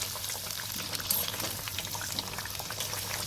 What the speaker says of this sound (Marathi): आपलं तेल तापलंय, गॅस आपण मीडियम करतोय. त्यामध्ये केलेले आपण हे हार्ट सोडूया.